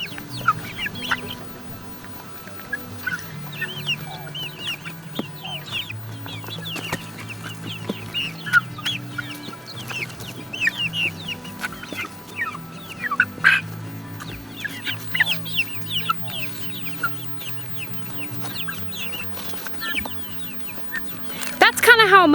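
Chickens cluck and squawk in a steady, scattered chatter around a shed-to-cabin homestead, close and fairly loud over low background noise, with a louder burst of clucking near the end.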